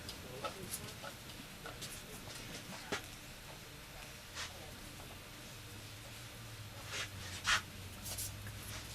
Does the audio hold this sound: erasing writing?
yes